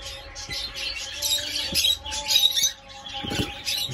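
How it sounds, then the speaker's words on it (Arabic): Lovebirds at their nest chirp and squawk in quick, scattered bursts nearby, sharp and shrill, with light rustling between calls. "ما بدنا نزعج الطيور."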